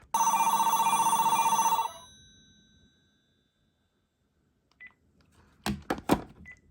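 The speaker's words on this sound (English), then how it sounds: "have a call come in on my cell to Jack" A cell phone rings loudly with a steady electronic trill for about two seconds, then stops; a few faint clicks and handling noises follow.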